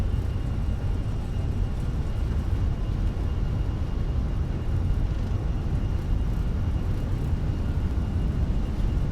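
Airliner engines roar at takeoff thrust in a flight simulator game on a departure from Montreal, a steady, dense, loud rumble that holds evenly throughout with no talk.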